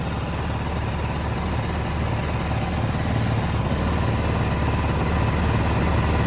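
BMW G310GS motorcycle engine idling steadily as its battery charges, a constant low rumble with a broadband hiss running unchanged throughout, with no voices.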